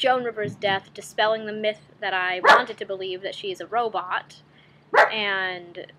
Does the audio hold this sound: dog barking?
yes